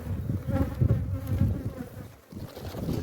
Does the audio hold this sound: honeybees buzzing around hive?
yes